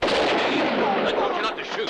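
Gunshot in a western movie scene: one loud, sharp blast with a booming, echoing tail that rolls on for about two seconds, close and dominant.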